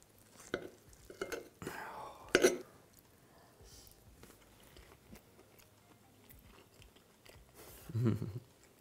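Close, quiet chewing of a hot bite of crispy homemade lasagna, with a few soft bursts of mouth noise and a brief crunchy peak near the middle and another toward the end, no talking.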